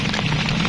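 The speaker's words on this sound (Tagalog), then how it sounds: "Umuulan eh." Steady rain falls outdoors during an airgun fishing outing, a dense even hiss with a low rumbling undertone and no clear pauses.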